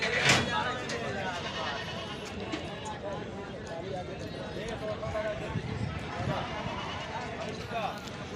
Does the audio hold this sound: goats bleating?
yes